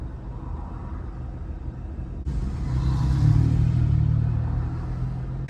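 Steady low rumble of road traffic heard from a city street, with a car engine swelling nearer and louder midway before easing slightly, a continuous droning mix of motor vehicles.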